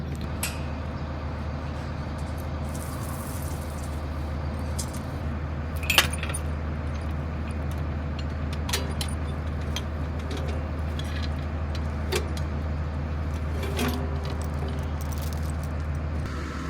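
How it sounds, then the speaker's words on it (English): Metal chain being handled and hooked around the back of a pipe outdoors, with scattered jangling clinks and rattles over a constant low engine drone. "we're gonna put a chain around the back of that pipe"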